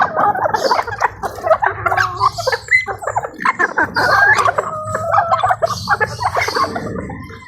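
Chickens squabble up close in a fight, giving agitated clucks, squawks and harsh calls that keep overlapping throughout.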